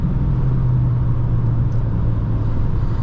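A 2016 Honda Accord Sport with the 2.4 engine pulls away under throttle, its steady low engine drone heard from inside the cabin, loud and even throughout with a slight hesitation before it builds.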